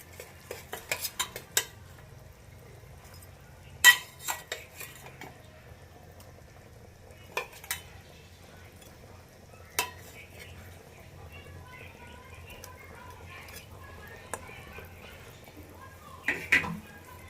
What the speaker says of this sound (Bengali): এবার ভেজে রাখা মাছগুলো আমি দিয়ে দিচ্ছি।